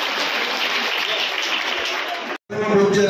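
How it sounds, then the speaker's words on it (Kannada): Loud sustained clapping from an audience at a ceremony honoring guests and artists fills the space as a dense, even wash of applause, then cuts off briefly before resuming with some tonal background. "ಜೋರಾದ ಚಪ್ಪಾಳೆ"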